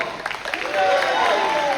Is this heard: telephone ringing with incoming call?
no